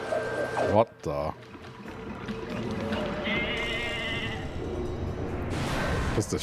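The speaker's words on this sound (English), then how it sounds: "Just a sheep." A sheep bleats in Okami HD, a short game-animal call set against continuous background game sound and music, with a person talking over it throughout.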